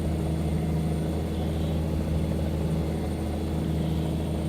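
Truck engine in American Truck Simulator, a steady low rumbling drone at constant load, loud and close with no talking.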